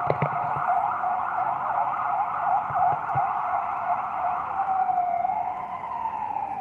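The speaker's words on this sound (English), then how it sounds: "It wouldn't be New York without sirens." A siren wails steadily through a Lower Manhattan street in New York, rising and falling continuously with traffic noise underneath, fairly loud and close.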